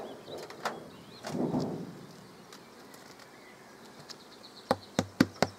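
Soft honeybee buzzing hums in the background, followed by a few sharp knocks near the end.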